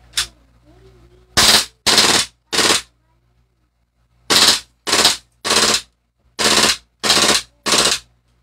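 Gun fired during a review test, nine sharp, loud bursts arriving in uneven clusters of two and three with short silent gaps between them.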